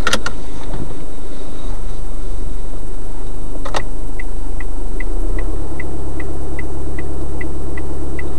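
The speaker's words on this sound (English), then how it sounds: "if you want to start your engine" A car engine in a driving lesson settling into a low, steady idle rumble, loud and close, with a few faint ticking clicks and a deepening hum toward the end and no one speaking.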